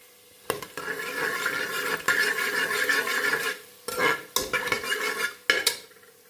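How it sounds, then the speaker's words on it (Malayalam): Whole cinnamon, cardamom and cloves fry in hot coconut oil for beef vindaloo, giving a close, busy sizzle and scrape. The steady texture breaks off in short gaps and resumes with sharp onsets, and no one speaks. "ചൂടായ വെളിച്ചെണ്ണയിലേക്ക് ഇത് മൂന്നും കൂടി, അതായത് കറുവപ്പട്ട, ഏലക്ക, ഗ്രാമ്പൂതും കൂടെ ഇട്ട് കൊടുക്കുന്നു"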